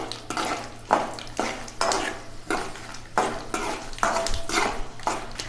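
Green chilies and dried curry leaves fry in hot oil for lemon rice, crackling and sizzling close by while a spoon stirs in regular scraping strokes against the pan about once a second.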